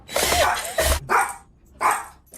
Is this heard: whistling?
no